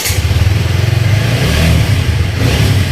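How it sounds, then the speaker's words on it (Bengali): A TVS 4V motorcycle engine starts and revs with a close, throbbing, pulsing rumble. It swells and holds a louder rev in the middle before easing. "আমরা বাইককে এখন স্টার্ট দিচ্ছি"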